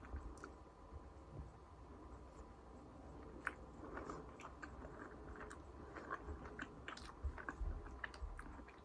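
Someone chews a dorayaki up close, giving soft, steady mouth sounds and small sticky bites over a faint background, with no talking.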